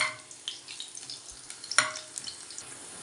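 Garlic sizzling in hot oil in a pan while it browns for a Dadha fish curry: a steady, close crackle with scattered sharp pops and one brighter burst partway through, with no voices.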